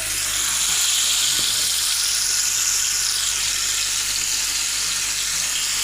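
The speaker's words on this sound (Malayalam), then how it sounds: "അപ്പോൾ നമുക്ക് മീൻ വറുത്തിടാം." Sardines fry in a pan on a kitchen stove, a steady, loud broadband sizzle of hot oil that runs unbroken and close, with no voices over it.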